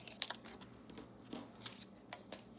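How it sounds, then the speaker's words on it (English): Scissors snip through a strip of paper in a few quiet, crisp cuts close by, with faint crinkling between the snips and no talking. "I'm just gonna take my scissors and I'm just gonna cut a strip of this"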